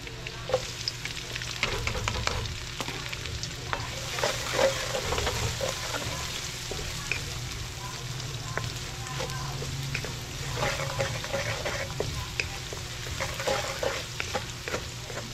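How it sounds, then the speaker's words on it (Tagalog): Garlic, onion and ginger sautéing in a pan, making a continuous crackling sizzle with frequent scraping stirs and clicks, close and moderately loud throughout. "papupulayin muna natin itong bawang sibuyas at luya"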